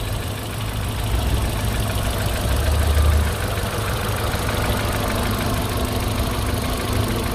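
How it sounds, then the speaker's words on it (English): A 2010 Kia Morning engine with about 88,000 km idles steadily up close, a low, even hum with a slight bump in level partway through, heard alone. "Okay, let's check it out, the sounds of the engine."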